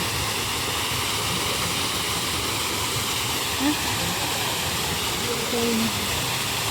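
Steady broadband rush of a waterfall in Kullu-Manali, continuous and fairly loud with no breaks, a couple of faint brief tones rising over the wash.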